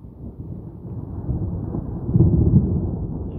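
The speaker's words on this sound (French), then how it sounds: "Une simple averse que je qualifiais d'inoffensive et de passagère est devenue un orage en l'espace de 20 minutes" Thunder during a heavy thunderstorm, a deep, muffled rumble that builds gradually and swells to a peak near the end, heavy and low with wind buffeting the microphone.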